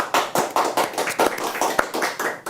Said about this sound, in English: Simon Doull deserves some applause